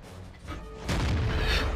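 A Type 59 tank fires a blind cannon shot in World of Tanks on the Murovanka map, a single heavy boom landing partway through and rolling into a sustained low rumble.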